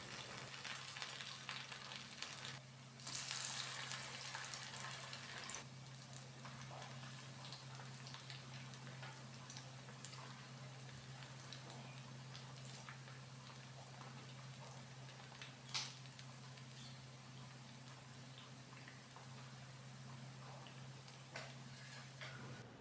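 Leftover rice vadas frying one by one in a pot of hot oil, giving a steady, soft sizzle with scattered faint crackles and a low constant hum throughout, no voices.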